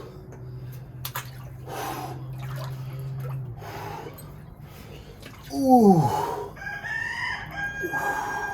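Roosters crow outdoors on a cold morning, one loud nearby cock-a-doodle-doo rising sharply midway, followed by further crowing, with a steady low hum and dripping water in the background and a brief voiced exclamation.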